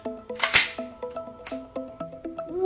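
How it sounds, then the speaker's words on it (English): A toy Nerf gun fires at an Avenger dummy, giving a rapid run of repeated chirping electronic tones broken by a couple of sharp, bright bursts, with no talk. "I'm shoot the Avenger dummy."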